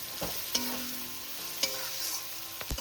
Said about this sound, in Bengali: এবার আমি একটু নেড়ে ছেড়ে নেব